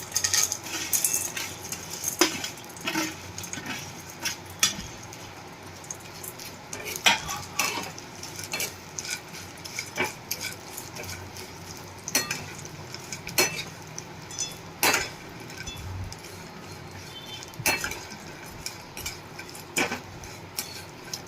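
Mango seeds roasting in ghee in a kadhai while being stirred, a long run of close scraping and clinking spoon strokes against the pan over a low steady background hiss, with occasional louder knocks and no talk.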